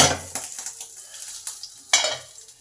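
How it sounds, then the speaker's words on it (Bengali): Eggplant pieces for Begun Basanti fry in a pan and are turned over, giving a close sizzle broken by several sharp utensil scrapes and clinks against the pan. "এবার বেগুনগুলোকে উল্টে দিই হালকা করে ভাজা হবে কড়া করে ভাজবো না"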